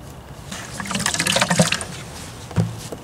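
A wet sponge wiped across freshly repointed brickwork, giving a soft, close-up watery scrubbing and squelching with a louder wet swipe near the end, no talking.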